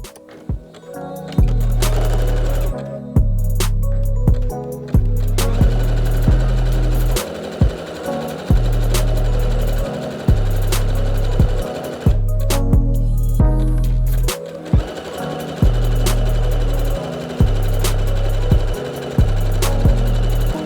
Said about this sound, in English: So we're sewing this seam here at the moment.